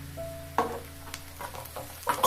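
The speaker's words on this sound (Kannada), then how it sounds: "ಈರುಳ್ಳಿ ಚೆನ್ನಾಗಿ ಫ್ರೈ ಆಗಬೇಕು, ಕೆಂಪಗಾಗೋವರೆಗೂ, ಅಲ್ಲಿವರೆಗೂ ಫ್ರೈ ಮಾಡ್ಕೊಳ್ಳಿ" Onions frying in a pan, a steady low sizzle broken by sharp spatula scrapes and clinks from stirring, close up with no voices.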